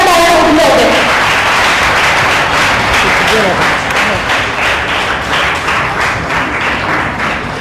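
Loud audience applause as a group goes up to receive certificates at an Independence Day gathering. It opens with a brief voice over the clapping, then turns into a steady, rhythmic clapping that eases off slightly toward the end.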